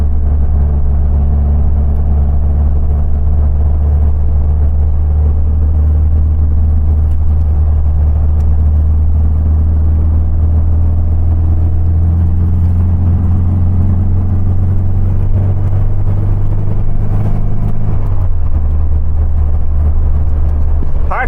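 A car engine fitted with reworked Weber IDF carburettors idles and runs loudly and steadily close by, a deep constant drone with a slight shift in pitch near the end; no one talks over it.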